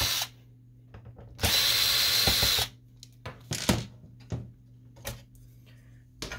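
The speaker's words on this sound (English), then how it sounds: "First, we need to remove the three screws that hold this bar." A power screwdriver backs screws out of a Canon MG6220 inkjet printer during disassembly, one steady whirring burst followed by several shorter clicks and clatters of parts being handled nearby, over a low background hum.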